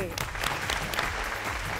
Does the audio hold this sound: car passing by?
no